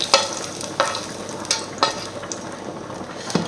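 Mashed potato purée cooking in a pan, stirred with steady spoon strokes that land roughly every 0.7 seconds over a faint, soft bubbling bed; close and moderately quiet, with no voices.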